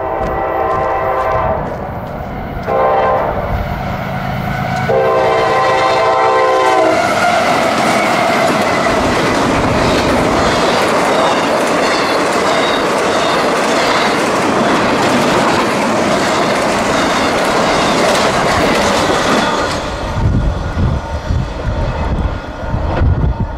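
A CSX freight train passes close by with its horn blaring in several long blasts, then a loud sustained roar of wheels and cars rolling past for most of the span before easing off at the end.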